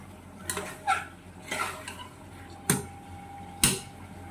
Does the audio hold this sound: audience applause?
no